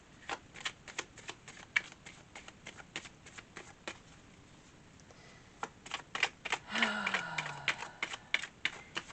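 Tarot cards being shuffled close by, a long run of quick crisp flicks and riffles, with a brief pause and a denser burst of shuffling near the end, fairly faint and alone.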